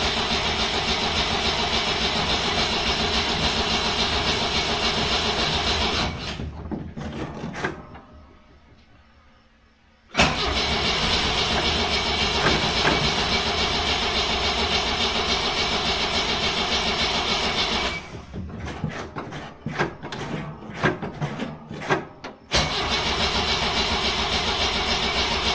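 A 1976 BMW 2002 engine with a newly installed push-button start and carburetor cranks repeatedly without firing, a steady loud churning broken by a brief quiet gap and a later burst of choppy turning.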